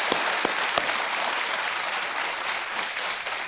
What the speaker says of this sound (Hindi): एक बार फिर तालियों के साथ इनका स्वागत